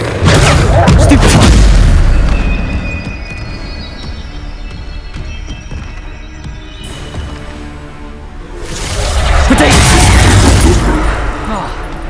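Bombarda spell blasts in the Hogwarts Legacy video game, loud booming explosions at the start and again near the end, with softer crackling game sound and faint voices between.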